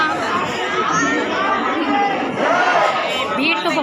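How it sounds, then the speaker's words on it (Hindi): A large crowd packs the Krishna Janmashtami festival in Kawardha, Chhattisgarh, producing a close, steady babble of many overlapping voices that stays loud and unbroken throughout. "यहाँ तो बहुत ज़्यादा भीड़ हवे"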